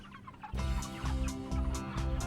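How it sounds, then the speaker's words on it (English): Dense chorus of chickens inside a poultry house on a Kentucky farm, many overlapping clucks and calls, close and continuous, growing louder partway through. "See all these chickens here eating?"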